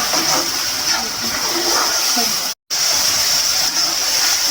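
A steady, loud sizzling hiss of tomatoes and spices frying in hot oil, cutting out for an instant midway before resuming.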